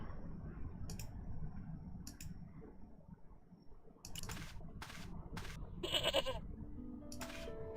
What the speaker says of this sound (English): Demon goat!